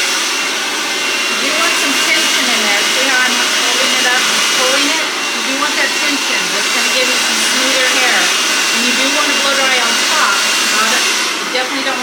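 A hair dryer running steadily close by while blow-drying long hair during a frizz-free blowout styling, with a continuous loud whooshing hum and a brief dip midway.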